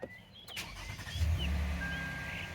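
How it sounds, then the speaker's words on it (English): A Lexus car engine starting up right after an oil change, with a brief cranking burst at the start settling into a steady low idle rumble close by, no talk. "now we're going to start our engine because we want to make sure our oil light"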